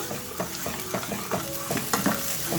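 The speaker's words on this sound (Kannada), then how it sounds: "ನಾವು ಈ ಥರ ಹಾಕ್ಕೊಂಡು ಸ್ವಲ್ಪ ಕೈ ಆಡಿಸ್ಕೊಬೇಕು" Ground chilli paste sizzles in a pan while it is stirred, giving a steady frying hiss with a close, regular rhythm of scraping strokes and no talking.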